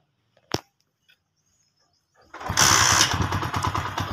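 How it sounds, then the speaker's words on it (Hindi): A new motorbike being kick-started: a sharp click and quiet taps, then after a pause the engine catches and idles loudly with a steady rapid putter close by. "चलो जी न्यू बाइक को लगाते हैं, चाबी लगी हुई है, स्टार्ट करते हैं, किक मारते हैं।"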